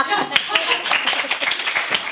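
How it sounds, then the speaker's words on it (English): A brief round of clapping from a small live audience at a hosted talk event, quick irregular claps close by, with voices mixed in underneath. "can we have a round of applause for the necklace?"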